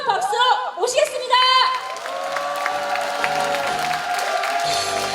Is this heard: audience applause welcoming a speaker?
yes